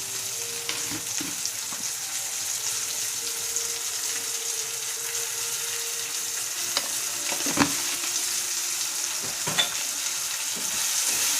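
Green peas frying in oil with salt in a pan for a masala dosa potato filling, a steady close sizzle with brief stirring scrapes and clinks, no talking.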